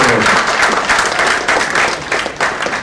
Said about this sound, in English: Please liberally clap.